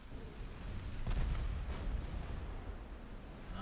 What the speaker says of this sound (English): That was a lot of torpedoes.